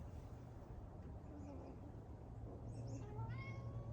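A house cat meowing outdoors, faint high calls rising near the end over a low steady background rumble.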